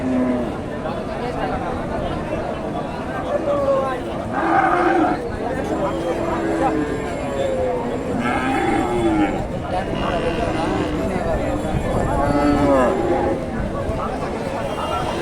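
Dairy cows at a busy cattle market, with several low moos rising over steady crowd chatter and people talking nearby throughout.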